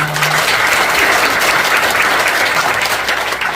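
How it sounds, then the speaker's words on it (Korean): Loud, dense applause fills a church thanksgiving service for a new congregation's founding and dedication, many hands clapping in a continuous roar that holds steady throughout. "박수 합시다"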